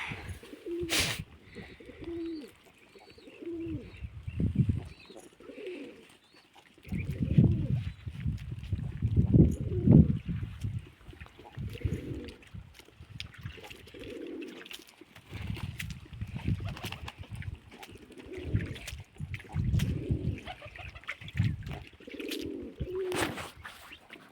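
Pigeons cooing in repeated soft, low throaty phrases, several close-by bursts in an irregular rhythm over a faint background with occasional sharper clicks.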